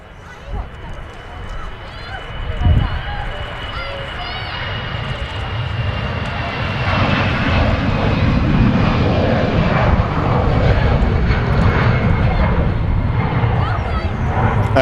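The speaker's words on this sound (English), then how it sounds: "EasyJet A320 on the roll." An EasyJet Airbus A320 on its takeoff roll at Manchester Airport, engine roar building from a moderate rumble to a loud, steady broadband roar, with a thin whine above and people talking during it.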